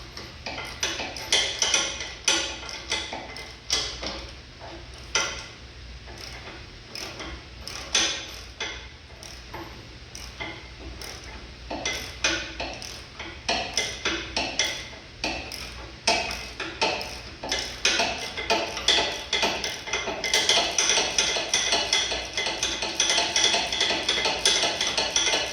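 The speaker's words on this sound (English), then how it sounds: "Tap that bolt to get it started down there." Hammer taps ring out repeatedly on a bolt being started into a front cab mount on a 1948 Chevy truck cab fitted to an S10 frame, close-up metallic ticks in irregular bursts with no talk.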